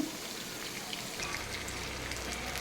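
Pieces of pointed gourd (potol) fry in hot oil with a steady, close, rain-like crackling sizzle that holds evenly throughout, with no voices.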